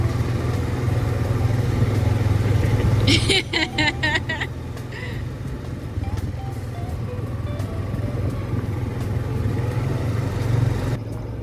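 A quad bike engine idles in desert dunes with a low, steady putter. A brief burst of clattering comes partway through, then the idle carries on, fairly close and unbroken.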